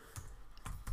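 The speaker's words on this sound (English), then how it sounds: "I'm going to type in here" Keystrokes on a computer keyboard: three crisp clicks typed close by with short gaps, and no voice.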